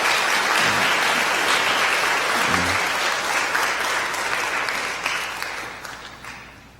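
A church congregation at a Sunday service claps in welcome for a bride-to-be joining the church, a full, steady round of applause that gradually tapers off.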